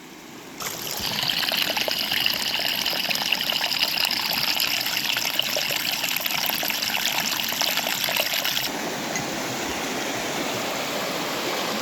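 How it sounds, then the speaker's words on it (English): Rushing creek water on a mountain homestead, a steady broadband roar of flowing stream that swells in strongly after a moment, holds loud and constant, then eases slightly near the end, with no voices. "The majestic powers of Come On Creek."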